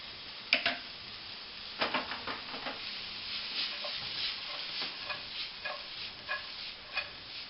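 Pasta being stirred in a pan with oil, soft scraping and ticking taps of a utensil against the pan over a faint steady sizzle, close and quiet, with no voices.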